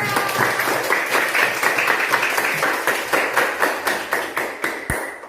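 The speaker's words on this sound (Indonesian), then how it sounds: "tepuk tangan buat kita semuanya" A class of Indonesian schoolchildren claps together in a strong, rhythmic unison beat after singing a patriotic song, the claps fading toward the end and closing with a single sharp knock.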